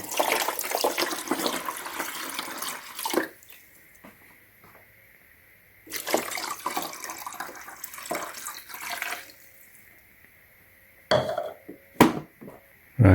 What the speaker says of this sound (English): And now we're going to put more fresh water to make some ice now.